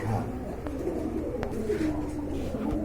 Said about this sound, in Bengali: এখানে রয়েছে বন্ধুরা এক জোড়া ব্ল্যাক মুখী কবুতর।